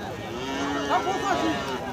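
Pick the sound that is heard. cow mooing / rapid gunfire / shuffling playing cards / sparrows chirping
cow mooing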